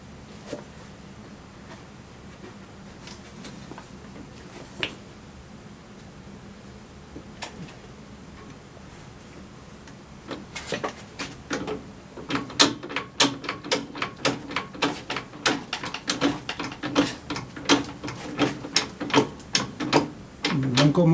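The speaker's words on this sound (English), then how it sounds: "I'm going to press the collar back on." A reclaimed drill chuck has its collar pressed back on using a socket, starting with a quiet hum, then a series of close, rhythmic metallic clicks and ratcheting creaks that grow louder, with no voices.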